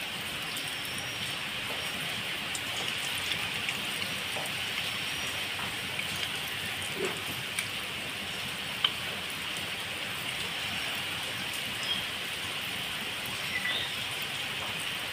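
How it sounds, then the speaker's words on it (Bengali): Soybean pakoras sizzle in hot refined oil, giving a steady, dense crackling hiss like light rain with small pops, heard alone with no talk. "এইভাবে এখানে আমার রিফাইন অয়েলটা গরম হয়ে গিয়েছে, তার মধ্যে আমি পকোড়াগুলো ভেজে নেব।"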